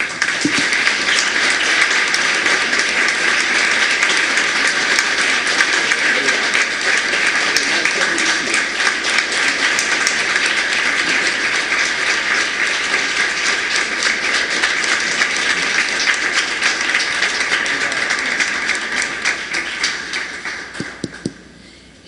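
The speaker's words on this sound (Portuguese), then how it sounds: "gostaria de mais uma vez uma grande salva de palmas para o professor" A large audience gives a long, steady round of applause for a professor at a publishing conference panel, a dense continuous clapping wash that holds for about twenty seconds before fading out.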